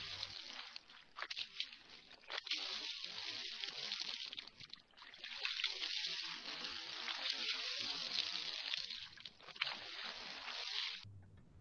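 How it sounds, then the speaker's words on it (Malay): Water from a tap splashes and trickles steadily over arms washed up to the elbows during ablution, a faint continuous rush broken by brief gaps. "Wajib membasuh kedua tangan kanan dan kiri hingga ke siku sebanyak 3 kali."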